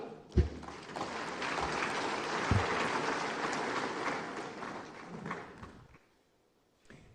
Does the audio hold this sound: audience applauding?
yes